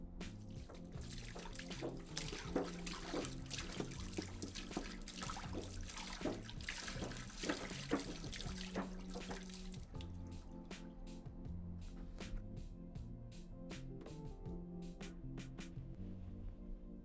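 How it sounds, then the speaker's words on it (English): Water pours from a jug into a bucket in the SCP video game, a steady trickling and dripping that runs through the clip beneath continuous tonal game music. "Fill the bucket approximately half full with the water provided in the jug."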